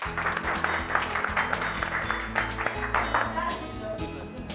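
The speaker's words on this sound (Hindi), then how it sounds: "तालियां" A classroom of students applauding, a dense patter of many claps, moderately loud, with a low steady hum and a voice speaking over the clapping.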